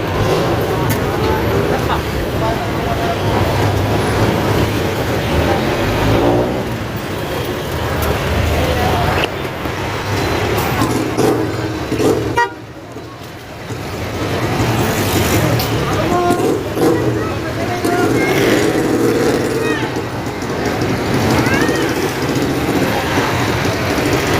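Heavy road traffic in a jam, with cars, buses and trucks producing a continuous loud rumble of engines and roadway noise, while people talk over it.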